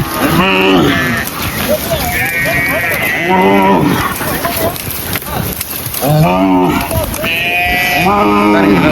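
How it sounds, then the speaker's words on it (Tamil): Cattle let out of their pen to graze in the Palali area, with several loud, drawn-out moos rising and falling in turn, close by, while a person talks between the calls. "இப்போ மாடுகள்லாம் அவுட்டு விட்ருக்கீங்க பாருங்க திறந்து விட்டாச்சு மேய்ச்சலுக்கு விட்டாச்சு"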